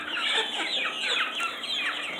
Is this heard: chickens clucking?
yes